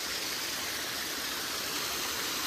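Jawhar Ghat waterfall roars as a steady, close rush of falling water, a dense unbroken wash of sound with no voices.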